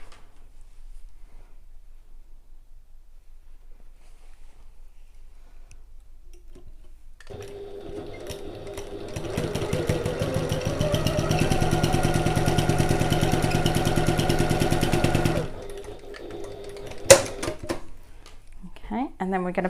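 A sewing machine back stitching a seam on a Stanley Satchel bag runs in a steady mechanical burst of about eight seconds, fairly close, then stops. A sharp click follows, and a voice talks at the end.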